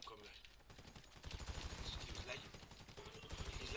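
Rapid gunfire in the GTA 5 Online video game, with rifles and pistols in a crew battle, rattles out in fast, steady bursts that grow louder partway through, over game background noise.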